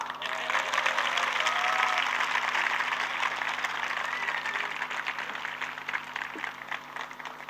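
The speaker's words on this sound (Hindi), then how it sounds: "ताली बजाओ।" Sustained audience applause from a crowd at a motivational speech event in Dehradun, a dense steady wash of many hands clapping that holds loud throughout, with faint voices underneath.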